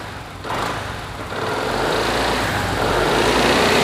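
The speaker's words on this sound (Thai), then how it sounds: "คันนี้ยังคงเป็นท่อเดิมนะครับเดี๋ยวฟังเสียงท่อคันนี้กัน" A 2021 BMW C400X scooter on its stock exhaust idles, then the engine rises in a couple of revs to a sustained higher drone, close and fairly loud, with no talking.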